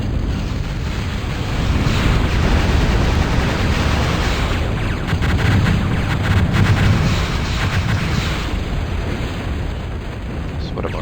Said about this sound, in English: Starting another bombing run.